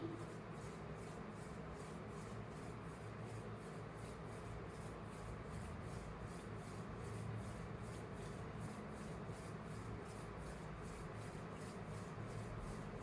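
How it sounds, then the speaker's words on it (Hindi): Palms rub together slowly and gently in a steady, soft rhythmic swish, faint and continuous with no talking. "बड़े ही स्लो प्यार से धीरे धीरे अपने पाम्स को रब करना है।"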